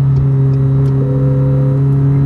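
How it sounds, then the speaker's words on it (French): Inside a McLaren 720S Spider with a twin-turbo engine and seven-speed dual-clutch automatic gearbox, a loud steady engine hum changes pitch once in a quick gear shift, heard close up with no talking. "Le passage de vitesse très rapide"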